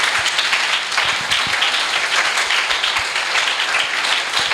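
A congregation at a church sermon bursts into loud, dense applause, many hands clapping continuously and close for several seconds with no speech.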